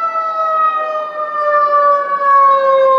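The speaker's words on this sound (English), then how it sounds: "we got the fire truck coming out" A fire truck siren wails loudly and steadily as the engine pulls out and passes, its pitch sliding slowly downward, with no voices over it.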